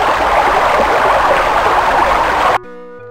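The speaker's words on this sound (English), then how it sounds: "That is loud water." Loud, rushing water in the PC adventure game Simon the Sorcerer II, a dense steady torrent that fills the scene and then cuts off abruptly near the end, leaving faint tones.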